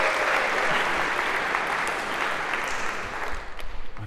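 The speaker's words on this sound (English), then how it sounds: "A round of applause" A lecture-hall audience claps for a student volunteer coming up on stage, dense sustained applause that thins out and fades over the last second.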